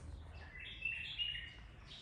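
Two bulbuls trade short, faint chirps from a short distance, bright brief calls over quiet outdoor background hum.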